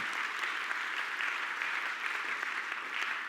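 A church congregation at a Sunday service breaks into dense, steady applause that stays even and full throughout, with no voices standing out.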